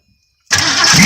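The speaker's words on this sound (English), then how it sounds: "sprayed some starter fluid right up in here and turned the key" A 1977 Ford Mustang engine doused with starter fluid turns over and catches, a sudden loud burst after half a second of silence that holds steady as it runs.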